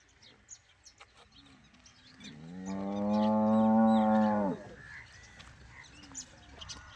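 A buffalo, recently due to calve, gives one long, loud, deep low lasting about two seconds, set against a quiet background with faint bird chirps and scattered small noises before and after while being loaded.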